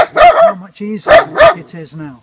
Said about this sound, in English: that's the dog, barking at nothing, which is what dogs do